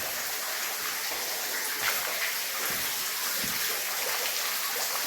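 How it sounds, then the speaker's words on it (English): Water pours down into an old quarry, a continuous loud rushing splash that stays steady throughout, with no voices. "a lot of water coming down from there"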